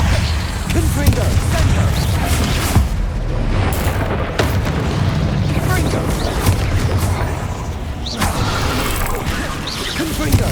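Repeated Confringo blasting-spell explosions from Hogwarts Legacy, several booming impacts and crashes over about ten seconds amid game music, effects and voice lines.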